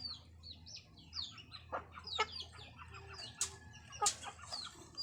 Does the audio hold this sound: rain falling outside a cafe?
no